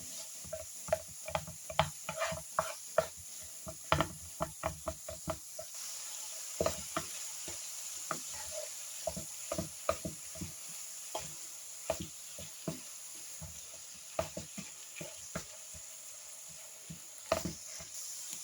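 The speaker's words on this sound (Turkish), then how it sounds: "şimdi 500 gram kıymayı içine boşaltıyorum. Ve tekrardan kıymayı kavuruyorum." Sizzling frying of 500 grams of minced meat with onions in a pan, a steady hiss broken by frequent sharp spoon scrapes and stirring clatters throughout, with no talking.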